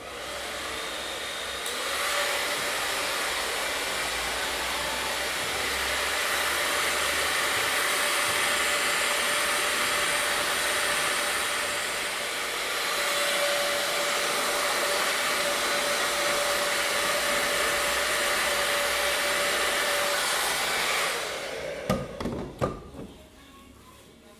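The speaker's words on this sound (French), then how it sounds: "Je vais quand même les sécher un petit peu avec le sèche-cheveux" A hair dryer blows with a steady, loud whirring hum for about twenty seconds while drying hair, then switches off, followed by a few brief clicks and handling sounds.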